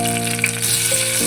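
Onion and tomato frying in a pan for sambar, giving off a close, steady sizzle for a moment.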